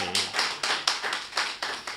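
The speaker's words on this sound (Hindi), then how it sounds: "कविता समाप्त हो गई है, तालियां बजाइए" An audience at a Hindi poetry gathering gives a short burst of clapping after a poem, with distinct, fairly loud claps that come in uneven waves and nothing spoken over them.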